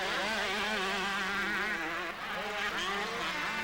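Suzuki 125cc motocross bikes race at a 1991 world championship Grand Prix in Genk, Belgium, their engines whining loudly with rising and falling revs as several machines overlap close by.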